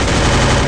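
Rapid automatic gunfire from the Free Fire shooter game, a dense loud burst of shots filling under a second, close and alone with no voices.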